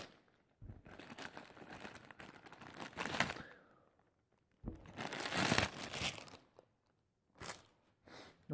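Plastic crinkling and rustling while a Mackie CR3 speaker box is unpacked, in two longer handling bursts and a brief final rustle, fairly quiet and close with no talking.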